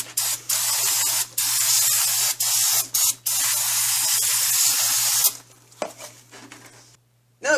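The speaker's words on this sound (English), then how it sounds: "I like to hit it with a little bit of brake cleaner as well" Aerosol brake cleaner blasts onto a drum brake assembly in long, loud hissing bursts with brief gaps, then shorter sprays and dripping near the end.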